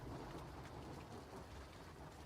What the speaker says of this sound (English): Rain sounds. This is wonderful.